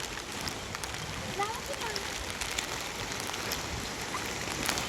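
Heavy rain pours steadily during a red-alert downpour, a dense continuous hiss of drops on surfaces close by, with a voice talking at moments under the roar.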